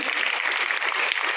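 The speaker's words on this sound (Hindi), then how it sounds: "सभी लोग आप लोग ताली बजाएं" A room full of people at a school results ceremony at Vivekananda Vidyalaya in Dhagwan, Sarila, Hamirpur claps loudly together in a short, dense burst.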